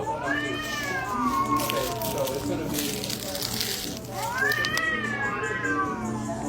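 Cats meowing indoors, two drawn-out rising and falling meows a few seconds apart, close and fairly loud, over a steady background with some talk.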